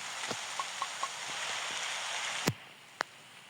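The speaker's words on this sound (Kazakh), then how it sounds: "Жаңбыр басталып кетті." Rain beginning to fall outdoors, a steady soft hiss of drops across the whole stretch, broken by a few sharp close taps and one louder knock near the end.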